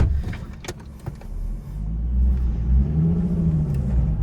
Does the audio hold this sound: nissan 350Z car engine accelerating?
yes